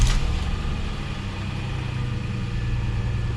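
A Lexus GS300's 2JZ engine idles steadily after a cold start, a constant low hum close by after a brief sharper sound at the very beginning.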